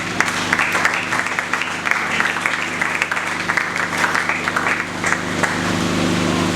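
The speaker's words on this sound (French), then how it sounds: "On acclame le Seigneur pour nous." Church congregation applauding and cheering together, a dense, steady wash of clapping with a low hum underneath that holds for several seconds.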